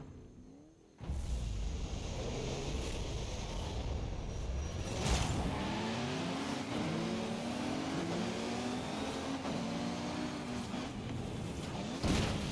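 A Caterham 7 engine in Forza Horizon revs hard and steadily after a brief quiet start, climbing through gear changes with a loud, continuous near-field drone and a sharp burst around the middle.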